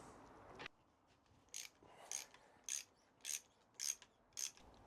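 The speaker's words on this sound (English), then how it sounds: "it's just going to allow me to just undo this top nut." A ratchet clicks in repeated short bursts, about seven evenly spaced strokes, loosening the top nut on a Honda CB550 fork leg in a quiet workshop after one earlier metallic scrape.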